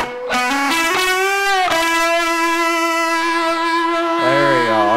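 An electric guitar with reverb added plays sustained, distorted notes that ring out and bend near the end, loud and close with a lingering ambient tail.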